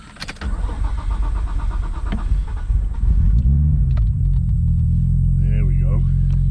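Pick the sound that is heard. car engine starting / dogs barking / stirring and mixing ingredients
car engine starting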